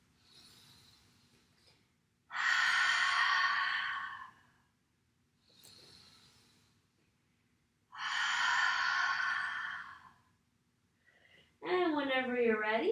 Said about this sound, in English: We'll take 3 more rounds of breath in our forward